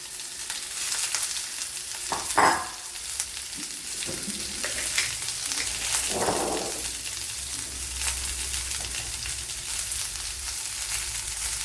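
Sliced medium onions and curry leaves frying in a pan for Kerala-style egg mappas, a steady close sizzle with a few stirring scrapes and no talk.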